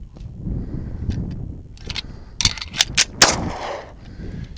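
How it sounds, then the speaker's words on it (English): A Taurus 1911 .45 pistol handled through a magazine drop and slide release, then fired: several sharp metallic clacks followed by a few loud, close bangs in quick succession, with no talking. "we're going to simulate a mag drop, run it back in, drop it, fire"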